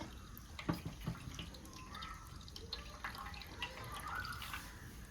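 Water drips and trickles close by from pressed ash gourd in irregular spatters and splashes, fairly quiet, with no one speaking.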